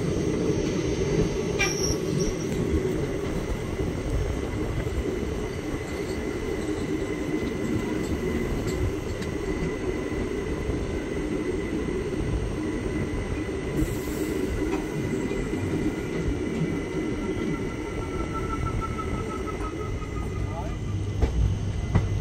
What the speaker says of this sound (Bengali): আমাদের ট্রেন এখন ঢুকছে বখতিয়ারপুর জাংশনে